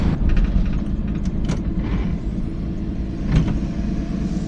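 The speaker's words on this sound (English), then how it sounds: "Did you guys hear a turbo on that Chevy Cruze?" A turbocharged Chevy Cruze passes close by, its engine swelling briefly over the steady low rumble of a moving car, with no talking.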